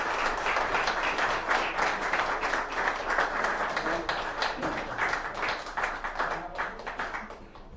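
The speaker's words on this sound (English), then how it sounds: "Big round of applause for Tyrone." Audience applause for keynote speaker Tyrone at an educational and awareness day event, a steady, dense wash of many hands clapping that holds for several seconds before easing off at the end.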